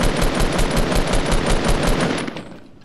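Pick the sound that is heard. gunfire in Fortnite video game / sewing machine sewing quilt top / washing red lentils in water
gunfire in Fortnite video game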